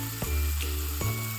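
Potatoes and chopped green chillies sizzle loudly in a hot pan as they fry, with a steady crackle broken by a few sharp stirring clunks.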